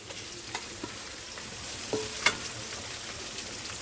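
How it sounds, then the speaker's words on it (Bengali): Garlic paste frying with onions in a pan for a desi rooster curry, giving a continuous close sizzle broken by a few sharp clicks and scrapes of a stirring spoon. "এবার রসুন দিলাম, রসুন বাটা"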